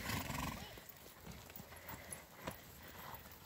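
A pony trots during a children's riding lesson, its hooves clip-clopping in a quick even rhythm under an instructor's voice, with a horse's whinny near the start.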